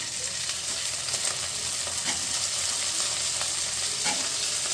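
Cut potatoes and onions fry in a hot pan with oil for a fish chorchori, a steady, loud sizzle broken by occasional stirring scrapes and no talk.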